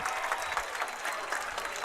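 A football crowd at a varsity high school game between Urbandale and DCG claps and cheers after a big kick return, a brief, steady burst of applause heard from some distance.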